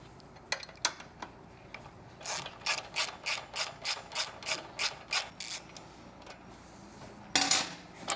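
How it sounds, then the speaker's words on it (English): Ratchet wrench clicking as it turns a bolt while fitting passenger peg block-off plates on a 2016-up liquid-cooled Triumph motorcycle: a steady run of about a dozen close, evenly spaced ratcheting strokes, with a few sharper clicks before and one after. "You need your 6mm hex bit, 12mm wrench."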